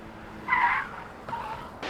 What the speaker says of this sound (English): tires met runway in a screech of burning rubber and asphalt.